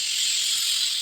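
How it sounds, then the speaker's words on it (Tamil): Onions and tomatoes sautéing in a pan give off a steady, bright sizzling hiss that holds evenly for about a second. "இப்போ இதே பேன்லேயே நம்ம வெங்காயமும் தக்காளியும் சேர்த்து வதக்கி எடுத்துடலாங்க."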